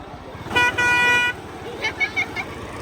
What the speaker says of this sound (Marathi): हॉर्न भारी आहे.